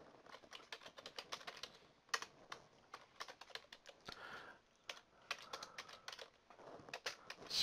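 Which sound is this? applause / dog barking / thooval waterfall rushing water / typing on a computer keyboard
typing on a computer keyboard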